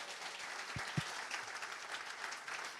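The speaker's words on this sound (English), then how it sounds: "Give a big round of applause." Audience applause greets a new co-host at a design conference: a steady, fairly faint wash of clapping from a crowd, continuous for a few seconds with a couple of louder individual claps early on.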